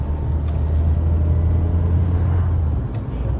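Austin Allegro car engine driving in third gear, a steady low rumble and hum from inside the cabin, close and fairly loud, with a few faint clicks near the start and end.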